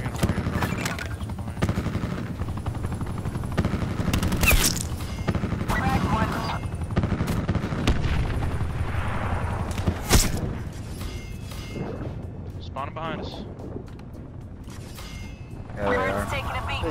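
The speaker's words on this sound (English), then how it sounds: "Attack chopper standing by." An attack helicopter in Call of Duty: Black Ops 4 fires dense, rapid bursts of gunfire and booming impacts over a constant rotor drone, with game voices and players talking throughout.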